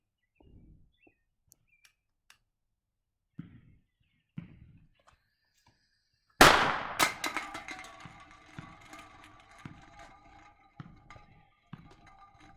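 A 1.5-inch firecracker between two cans goes off with a single sharp bang midway. A clattering tail of metallic rattles follows, after several faint taps in near silence beforehand.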